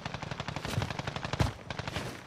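Call of Duty: Modern Warfare gunfire, a rapid automatic burst of shots in a steady rattling rhythm with one heavier crack near the middle, loud and continuous, no talking.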